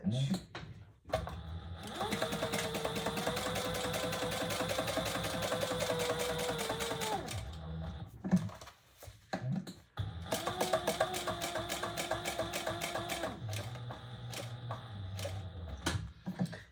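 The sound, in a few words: sewing machine top stitching and back stitching a bag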